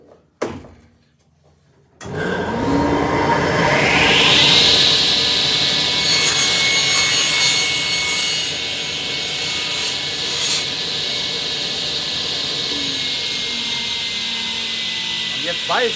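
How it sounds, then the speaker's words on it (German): A power saw whines up and bites into a wooden board, with a steady loud cutting roar that holds for many seconds after a brief quiet start. "Ich schneide jetzt einmal hier eben die Platte."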